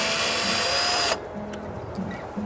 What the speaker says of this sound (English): Here we have our drill